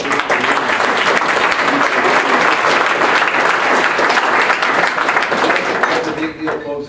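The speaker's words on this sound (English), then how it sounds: "we need to give you guys a round of applause" An audience at a mayor's State of the City address claps loudly and continuously for volunteer firefighters, a full sustained round that fades slightly at the end, with some voices mixed in.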